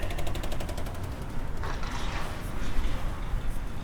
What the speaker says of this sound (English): The door's making a click noise over there from the wind.